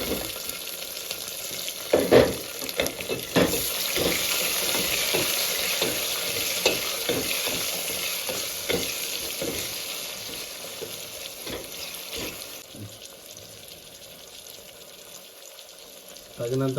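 Tomato and onions fry in a pan for little-millet upma, giving a continuous hiss with scraping stirs and occasional clatters, quieter toward the end.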